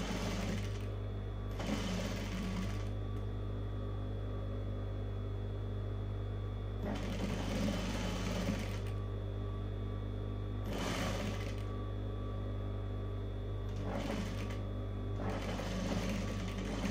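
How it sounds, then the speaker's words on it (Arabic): A sewing machine stitches a chiffon scarf in several separate bursts of whirring motor and needle chatter, each a second or two long, separated by pauses filled with a steady low hum. "نخيط كده."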